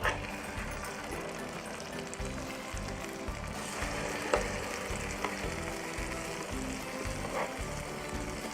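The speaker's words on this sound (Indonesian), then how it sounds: "pan yang satu lagi bakal kita manfaatin buat goreng si omelet tahu telurnya sedikit aja" A tofu and egg omelet sizzles in oil in a pan, a steady crackling fry with occasional louder pops and no talking.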